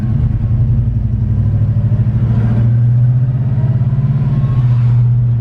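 A '55 shop truck's engine idles loudly and close, a steady low rumble with a fast, even pulsing throb.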